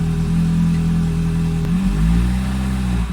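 The engine of a Ferrari 360, with a brake-related electrical fault, idles in neutral with a loud, close, steady mechanical drone, then rises in pitch as it is revved midway and holds there, with no talking.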